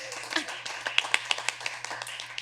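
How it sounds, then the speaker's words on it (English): Scattered hand claps from a small audience, a dozen or so sharp, uneven claps over a couple of seconds with a low steady hum beneath, moderately close. "look, they want to clap"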